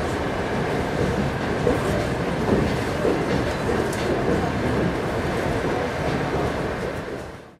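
Trans-Siberian train carriage rolling over the rails across Siberia, a steady loud rumble with faint rhythmic clatter throughout, fading slightly at the end; voices murmur faintly beneath.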